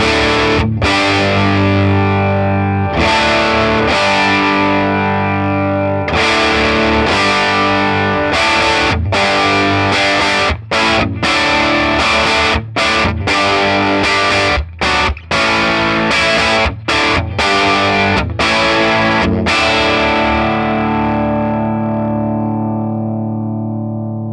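Heavily distorted electric guitar chords through a Bearfoot FX Emerald Green Distortion Machine pedal ring out loud and sustained, broken by brief rhythmic stops, with no voices.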